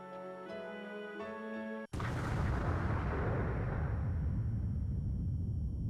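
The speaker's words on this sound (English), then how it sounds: "Another explosion?" An explosion in the Code Realize visual novel game cuts off a tonal music passage, then a loud, dense roaring rumble holds and slowly decays over several seconds.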